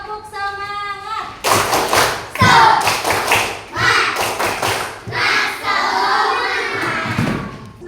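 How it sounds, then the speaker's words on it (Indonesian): A school class does a rhythmic spirit clap, a string of sharp, loud group claps in a patterned beat mixed with children's chanting voices, after a voice speaks alone at the start. "Tepuk semangat."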